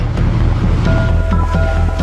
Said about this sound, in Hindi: समंदर शांत दिखता है, लेकिन साइक्लोनिक विंड्स 1 मीटर ऊंची लहरें उठाकर ऑपरेशंस में रुकावट डाल सकती हैं।